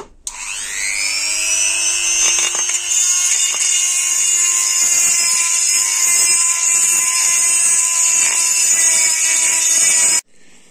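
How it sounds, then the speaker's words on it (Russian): A Dremel rotary tool spins up and grinds, enlarging holes in a metal generator cover from a Yamaha R1 motorcycle: a loud, close, high steady whine held for about ten seconds before cutting off, with no talk. "проточил я дремелем все отверстия"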